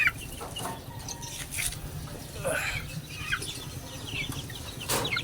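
Hungry hens cluck in short, scattered bursts at feeding time, fairly close, with some rustling and faint background noise between calls.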